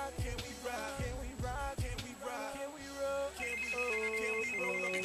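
A telephone on a business line rings out with a melodic ringtone, repeating tonal phrases over about five seconds with no one speaking.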